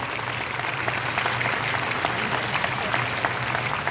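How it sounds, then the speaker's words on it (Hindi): Children in the audience clap together at an international film festival welcome ceremony, a dense, even patter of many hands, loud and close, with a low hum underneath throughout. "बच्चों आपका उत्साह आपकी तालियों से पता चलेगा।"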